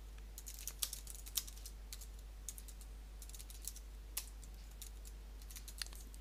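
Someone types on a computer keyboard in faint, irregular bursts of light clicks over a steady low electrical hum.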